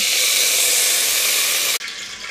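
Raw oil poured into a hot cooking pot, a loud steady hiss and sizzle that cuts off sharply near the end, leaving faint background noise.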